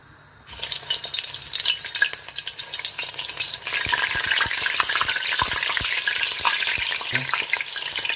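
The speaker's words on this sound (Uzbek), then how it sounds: "Piyozimizni shu shaklda 2-3 daqiqa qovurib olamiz" Sliced onions drop into hot oil and fry with a sudden loud, continuous sizzle, crackling and spitting steadily, with a few stirring scrapes in a close pan.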